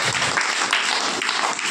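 A congregation at a Christian fasting prayer meeting claps hands, a short burst of dense, fairly loud applause that surges and fades in waves.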